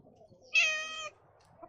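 A duckling in a cartoon farmyard mimics a kitten, producing one brief, high, clear meow, close and isolated against near silence.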